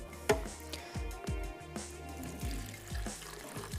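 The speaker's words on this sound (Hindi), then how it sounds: "और थोड़ा सा इसमें ऐड करेंगे पानी" Water poured into a lemon pickle mixture of lemons and salt during home cooking, a soft close trickle and splash with faint clinks and taps, moderately quiet, no talking.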